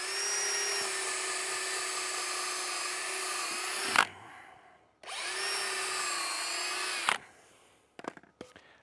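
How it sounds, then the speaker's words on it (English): A power drill whines at high speed drilling holes in wood in two long, steady runs separated by a brief pause, ending with a few light clicks and knocks. "I'm gonna drill 2 holes at a diagonal."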